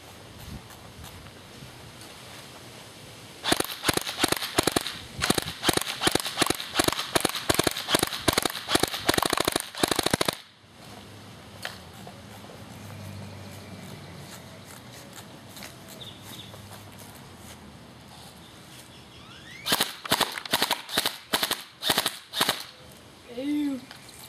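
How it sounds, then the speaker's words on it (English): A watermelon blown apart outdoors, heard as rapid bursts of sharp cracking pops in two volleys with a quiet gap between, loud and close over faint background. "Watermelon, it's getting destroyed."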